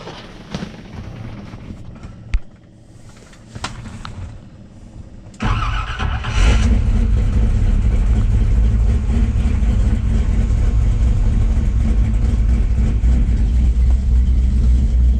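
A truck engine, a build called Oxen, cranks over at about five seconds and catches, then settles into a loud, steady idle while fairly cold, with a few clanks and knocks before the start.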